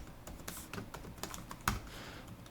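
Quiet, close typing on a computer keyboard, with irregular key clicks and one sharper keystroke partway through, alone and without talk.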